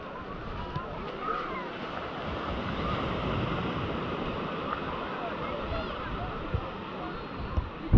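Ocean waves wash onto the sandy beach at Plage des Vieilles in Vendée, a steady broad rush of surf mixed with gusty wind buffeting the microphone throughout.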